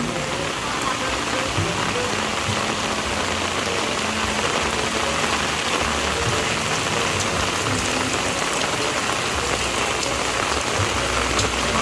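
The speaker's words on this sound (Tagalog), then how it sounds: "Grabe ang ulan, oy." Heavy rain pours steadily and loudly on surfaces, a dense continuous wash of drops with no pauses.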